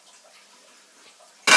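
Water is poured into flour for a sweet pie crust pastry, arriving as a sudden loud splash and rush at the very end after near silence.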